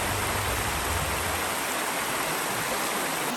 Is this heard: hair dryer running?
no